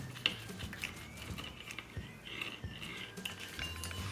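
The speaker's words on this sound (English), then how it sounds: "now I'm just going to take a pizza cutter and just cut it into pieces like this" A pizza cutter rolls through a quesadilla on a marble tray, giving faint scattered clicks and light scraping taps against the stone, quiet and close with no voices.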